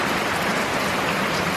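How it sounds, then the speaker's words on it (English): Rain falls steadily and fairly loudly as dense, even hiss-like patter on surfaces outdoors, with no voices. "So it's raining."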